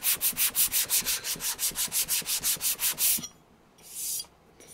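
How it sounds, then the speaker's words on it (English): A resin 3D printer flex plate is being roughed up with sandpaper in fast, steady back-and-forth strokes, about sixteen even rasping passes close up, then a pause and one last longer rub, with no voices. "now we got some sandpaper. So just kind of rough this up a bit"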